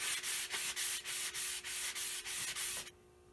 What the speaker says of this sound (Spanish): He lijado este canto hasta dejarlo redondeado y más o menos liso